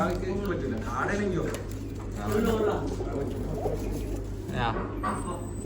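Pigeons coo softly in the background while a person talks over them, with steady noise throughout.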